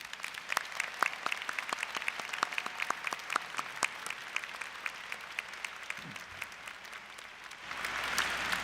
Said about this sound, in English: May we have one more show of applause